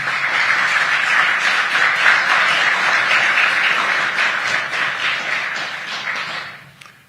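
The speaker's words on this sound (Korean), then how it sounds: "이재명 대통령께 먼저 큰 박수 부탁드리겠습니다" Loud, dense applause fills a business roundtable hall for the Korean president, sustained evenly and then thinning out and fading in the final second.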